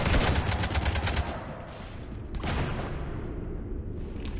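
Gunfire rakes a ship in the video game Mass Effect 3: a loud burst of rapid automatic shots, then a booming impact and a rumbling decay, with no speech.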